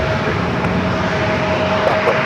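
A Southwest airliner's engines roar steadily at takeoff power on the runway at San Diego airport, a loud, continuous rumble with no gaps and a faint tonal whine riding on top.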